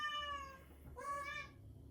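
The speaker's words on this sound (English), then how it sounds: "don't mind my cat, y'all" A pet cat lets out two clear, drawn-out meows close by in a quiet indoor room, the second slightly higher and brighter, with no talking over them.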